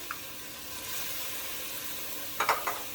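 Stirring minestrone in a pot, a soft steady sizzle with a few light scraping clinks of a spoon near the end, close and quiet, no voices.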